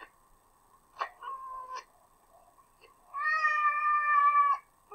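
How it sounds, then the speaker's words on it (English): A fox gives a short high call, then a longer drawn-out wavering cry, close and clear against a quiet background, with no talking. "That's the sound of the baby fox."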